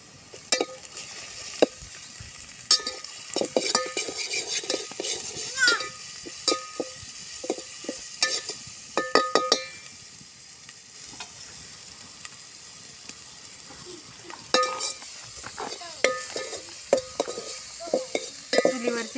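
Ginger, garlic and coriander paste is sautéed with browned onion in a pan over a wood-fired stove, with a soft steady sizzle broken by frequent scraping and clinking stirs of a spoon.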